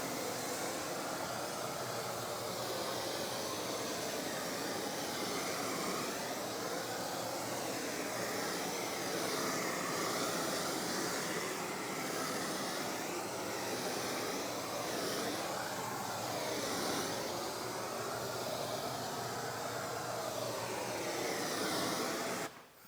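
Dry foam sprays over a car's engine bay in a steady, loud, hissing rush of air and foam that runs unbroken for over twenty seconds, then cuts off.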